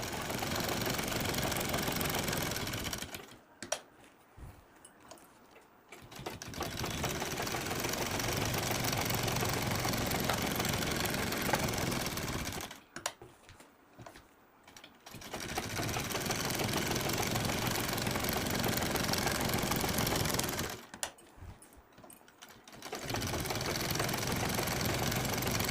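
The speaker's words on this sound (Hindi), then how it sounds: "तो देखिए चलिए सिलाई लगाते हैं। इस तरह हमें चारों तरफ से सिलाई लगाना है।" Sewing machine stitching around all four edges of fabric for a handmade hand fan, running steadily in three long bursts with short quiet pauses between them, with no talking.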